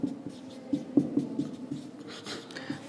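A pen scratches across paper in close, continuous strokes while a heading is written out for an exam answer, with short pauses between words and no talking.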